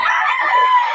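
A Sweater gamefowl rooster of Golden Boy bloodline crows nearby, one loud sustained call held for the full second with a bright, rising-and-falling tone.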